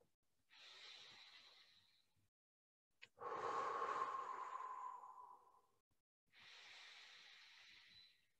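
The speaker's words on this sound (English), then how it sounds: "breathing deep down into the base of our lungs" A person breathes deeply during a mat Pilates session: three slow, quiet breaths close to the microphone, each a soft airy hiss lasting a couple of seconds, with near silence between them.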